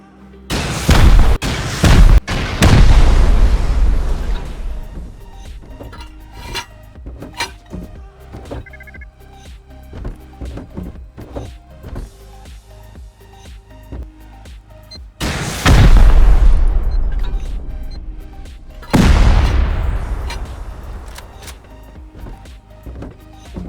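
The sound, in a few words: rocket explosions raiding a base, Rust video game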